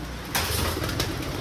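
A crested male black Rajshahi pigeon coos softly indoors: one low, faint call over steady room noise, with no talking.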